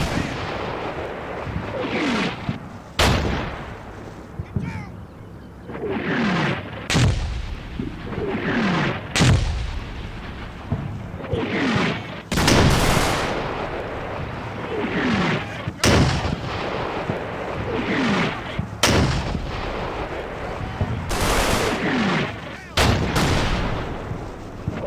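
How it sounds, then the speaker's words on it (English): An artillery barrage in the World War II video game Combat Mission Normandy: sharp, heavy blasts strike repeatedly at irregular intervals over rumbling, crackling battle noise. "a devastating barrage falls upon Objective Sally"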